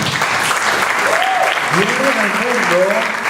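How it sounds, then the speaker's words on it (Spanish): A church congregation at a Christmas Eve service applauds in a loud, sustained wash of many hands, while a voice speaks over the clapping from about midway. "Esos aplausos para Él deben reflejar nuestro gozo"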